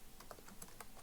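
Typing on a computer keyboard: a quick run of separate light key clicks at an uneven pace, close and fairly quiet, with no voices.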